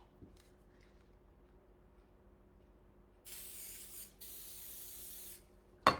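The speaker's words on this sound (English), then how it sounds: "I'm going to spray it with a little coconut oil" Two short hissing bursts of coconut oil cooking spray onto a hot waffle maker, close and clear over a quiet kitchen, followed by a sharp click at the end.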